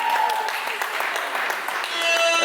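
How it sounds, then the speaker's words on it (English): Audience at a listening party applauding in a dense, continuous patter of clapping close by, with voices and cheering mixed in throughout. "Please clap for him, okay?"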